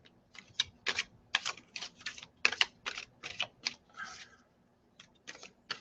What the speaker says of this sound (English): I'm just doing a little hand over hand shuffle just to get a good mix.